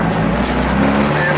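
A Honda Civic with a swapped K20a engine and no power steering runs loud and close, a dense steady engine roar that fills the whole moment with no gaps.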